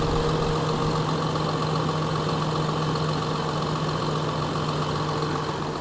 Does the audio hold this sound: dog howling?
no